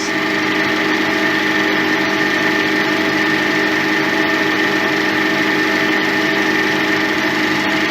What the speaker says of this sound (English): here we are looking at the projector for screen 3, the features in CinemaScope with the old swinging anamorphic lens